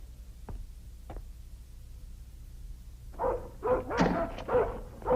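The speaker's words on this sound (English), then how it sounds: "Stop barking." A dog named Hagen, lying at the foot of the stairs, barks in a quick burst of several loud, close barks after a quieter stretch with two faint knocks.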